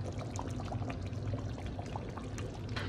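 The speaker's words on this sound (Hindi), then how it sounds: "अब हम इसमें ऐड करेंगे टोमेटो और ग्रीन चिली।" Cooked beef in a pot for biryani as tomatoes and green chili are added: a steady, close bubbling sizzle with no pauses and no talking.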